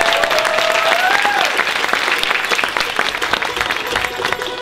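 Loud, continuous applause and cheering from a live audience for a band, sustained for several seconds close by.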